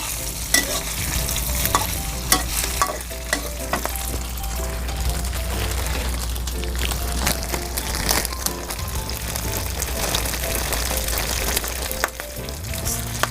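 Peanuts stir-fried in a hot pan for pad thai, with a loud, steady sizzle and repeated scraping and clattering of a spatula throughout, no talk.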